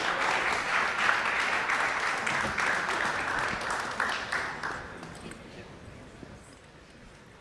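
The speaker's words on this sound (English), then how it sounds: "Give it a round of applause, everybody," Audience applause at a crypto industry conference panel in Brooklyn, dense steady clapping from a large crowd that fills the room and then gradually thins and fades toward the end.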